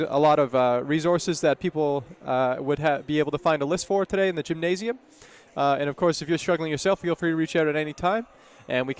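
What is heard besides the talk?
No everyday noises stand out.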